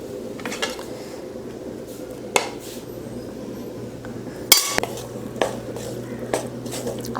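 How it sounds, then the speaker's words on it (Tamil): Cooked rice is stirred into a tamarind mix in a pan with a metal spoon: soft, steady scraping and shuffling, broken by a few sharp clinks of the spoon against the pan. "இப்போ இதில் சாப்பாடு போட்டு கிளறிக்கலாம்"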